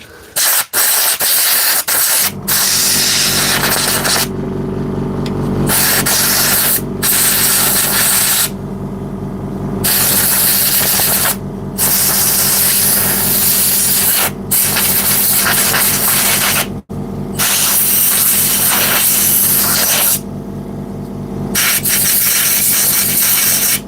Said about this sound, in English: You will discover that I am a fan of the brake cleaner.